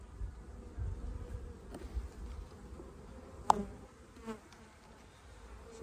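Honeybee colony buzzing at an open hive during a spring inspection, a steady low drone of many bees close by with a few louder passes near the microphone.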